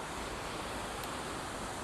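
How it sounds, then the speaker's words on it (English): Water pours over a man-made weir in a steady, broad rushing hiss that stays quiet and continuous throughout, with no voices. "the juxtaposition between the flow of the water and the man-made weir"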